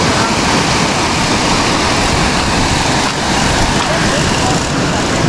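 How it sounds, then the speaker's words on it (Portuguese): A loud, steady rushing roar of a waterfall at the Botanical Garden in Brasília, continuous and broadband, filling the whole clip without pause. "Chegou na cachoeira."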